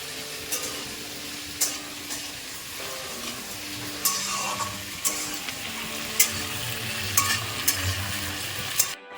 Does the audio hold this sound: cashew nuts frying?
yes